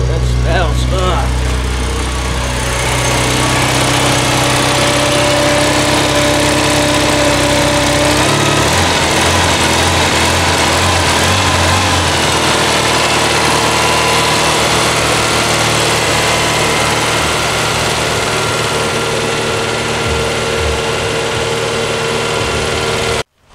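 A Toyota KE70 drift car engine running after a restart, a rough loud rev early on settling into a steady, buzzy idle that holds close and constant to the end.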